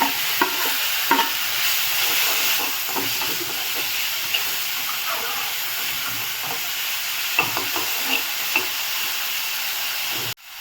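Mango pieces hitting a hot pan with white mustard seeds give a steady close frying sizzle with scattered crackles and stirring scrapes, no talk over it.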